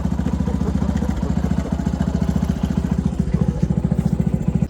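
A motorbike being ridden through a village, its engine chugging in a steady, close, rapid pulse that stays even and fairly loud from start to finish with no voices.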